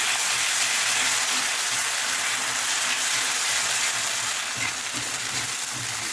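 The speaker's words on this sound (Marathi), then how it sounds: "हे वाटण आपण एक ते दोन मिनिट मस्त परतून घेऊ" A paste of green chili, ginger and garlic frying in a pan for street-style tawa egg masala, a loud, dense, continuous sizzle with faint stirring underneath, close and steady throughout.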